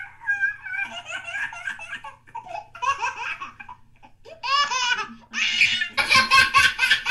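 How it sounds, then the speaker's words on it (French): Recorded baby laughter played back through a Google Home smart speaker, a run of giggles and belly laughs that grows louder and more excited toward the end, with a faint low hum underneath. "Je vais vous faire écouter les sons d'un bébé souriant."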